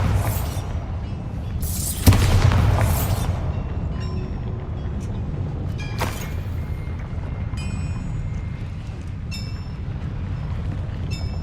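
Bombarda blasting spell in Hogwarts Legacy, a sudden explosive burst followed by rumbling debris and a second sharp crack later, with small chiming game effects around it.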